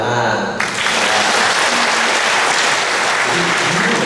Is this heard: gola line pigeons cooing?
no